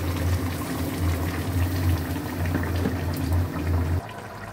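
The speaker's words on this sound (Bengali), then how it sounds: "এবার গরম জল দিচ্ছি।" Hot water poured into a cooking pan of broccoli paneer, a loud, close, gurgling rush with a low bubbling rumble that stops abruptly near the end.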